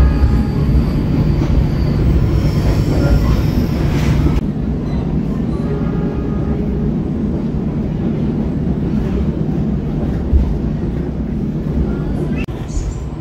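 KA Papandayan passenger train running straight through Pleret station without stopping, a steady loud rumble of wheels and carriages throughout with faint squeals, heard from aboard or near the train.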